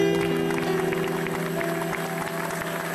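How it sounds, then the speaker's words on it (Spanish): Church congregation clapping in praise of the Lord, a steady dense patter of many hands over a sustained musical drone, fairly loud throughout. "Dele aplauso al Señor"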